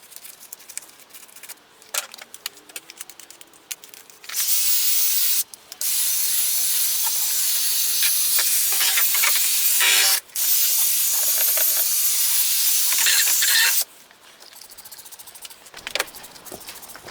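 Long bursts of spraying foaming multi-surface cleaner and degreaser hiss, several in a row with short pauses, broken by brief wire-brush scrubbing and rubbing sounds between them.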